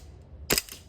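Full-metal 1911-style green gas airsoft pistol firing BBs, a single sharp, loud crack with a quick metallic slide snap, close and alone against a quiet background.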